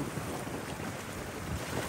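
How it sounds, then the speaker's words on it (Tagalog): Strong wind at Taal Volcano buffets the microphone in a constant low roar, steady gusts rumbling throughout with no voices. "Sobrang hangin."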